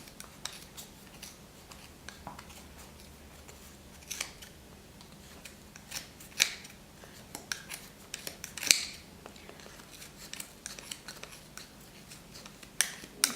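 Repeated snipping of scissors through thick wound yarn, irregular crisp cuts close by, with quiet handling noise between them and no talking.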